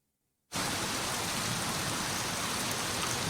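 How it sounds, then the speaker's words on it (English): Rain in a Genshin Impact character trailer begins after a brief silence, then holds as a dense, steady hiss that stays loud and even to the end. "The sound of rain."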